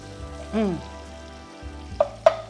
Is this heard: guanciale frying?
yes